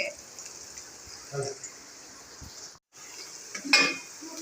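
Onion cooking with garlic chutney in a pan, a faint steady sizzle with a few soft stirring scrapes and clinks under someone speaking.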